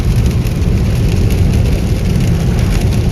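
Steady rain drums on a car while it drives along a foggy road through snowy northern mountains, a dense, even hiss with low road rumble filling the whole stretch, no voices.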